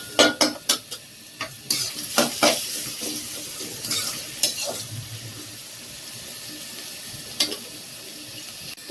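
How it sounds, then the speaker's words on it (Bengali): Tomatoes frying in a pan are stirred with a utensil, giving a series of sharp scraping strokes and clacks over a soft, low sizzle, close and irregular in rhythm. "এখন এই যে টমেটো ভেজে নিতেছি"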